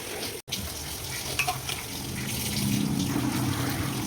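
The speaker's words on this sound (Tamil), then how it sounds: "ஆட் பண்ணி இந்த மிக்சரோடு சேர்த்து நல்லா மிக்ஸ் பண்ணி எடுத்துக்கிறேன்." Chicken pieces being stirred into a tomato masala for chicken biryani, giving a steady wet sizzle and scraping stir that grows slightly fuller toward the end, with a brief dropout near the start and no talking.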